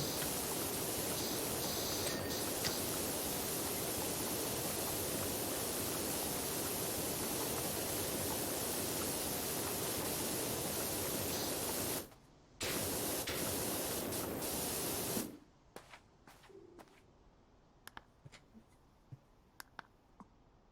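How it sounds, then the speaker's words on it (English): A pressure washer sprays water in a loud, steady hissing rush that cuts out briefly and then stops, leaving scattered faint clicks and quiet. "you can't power wash anything incorrectly"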